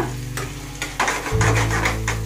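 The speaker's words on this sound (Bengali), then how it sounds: "রান্নার শেষে আমি একটু সামান্য ঘি ঢেলে দিলাম" Ghee poured over finished boal catfish dum in a pan sets off a sizzling, spattering burst that swells midway, with scraping stir sounds close by and no talking.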